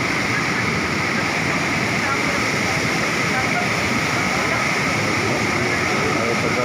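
Floodwater rushes loudly and continuously through Barangay Buhisan, Cebu City, during Super Typhoon Tino, a dense, steady roar with no breaks.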